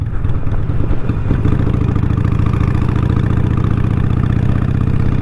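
A motorcycle engine drones steadily and loudly while being ridden on the road, with a rough clattering edge and wind rumble and no break in the sound.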